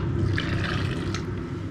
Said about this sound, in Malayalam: മുങ്ങിക്കിടക്കത്തക്ക രീതിയിൽ നമുക്ക് വെള്ളം ഒഴിച്ചു കൊടുക്കാം.